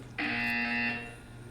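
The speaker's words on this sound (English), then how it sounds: "You will hear a buzzer. When you hear the buzzer, look up at the ceiling." Buzzer from the video game Portal 2, a single harsh electronic tone that sounds abruptly, holds steady for under a second, then cuts off into quiet room tone.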